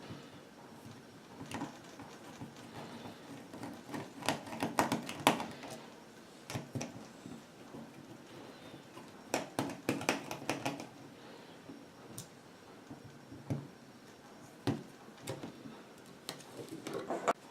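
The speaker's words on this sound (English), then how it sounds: "So using the screwdriver, I'm going to remove these 2 screws, which will release the battery." Small screwdriver removing two screws that hold the battery in an Amazon Kindle 2 D00701 e-book reader, heard as quiet, close clicks and scrapes in scattered bursts with brief pauses, no talking.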